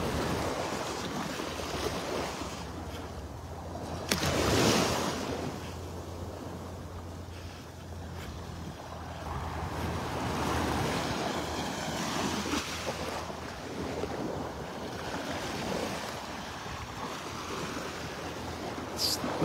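Ocean surf rolls steadily onto a beach at Delnor-Wiggins Pass State Park as the tide comes in, a continuous wash of breaking waves with wind, nearby and moderately loud, with no voices.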